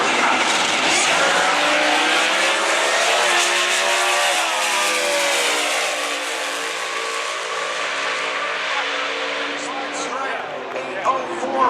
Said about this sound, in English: Bo Butner wins the race